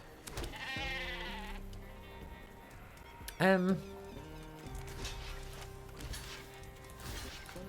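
Cartoonish sheep bleats from the card game MTG Arena sound repeatedly amid game music and effects, with one loud sharp bleat near the middle and a voice talking under it.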